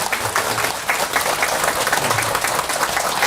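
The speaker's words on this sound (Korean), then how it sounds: "설정 큰 스님께 다시 한번 큰 박수 부탁드립니다" An audience claps steadily in a hall after a Buddhist dharma talk by a senior monk, a dense, even round of applause that keeps going throughout.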